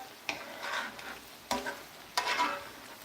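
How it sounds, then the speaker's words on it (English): Fresh ginger being stirred into a seafood and pig tail stew in a pot, with three separate scraping, sloshing stirs spaced about a second apart, close and moderately loud. "You stir this across like this"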